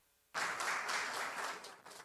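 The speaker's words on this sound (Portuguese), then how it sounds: "uma salva de palmas para o Will aqui também" A sudden burst of applause from a seminar audience at an insurance forum, starting sharply after a brief quiet and continuing as a steady, fairly faint wash of clapping.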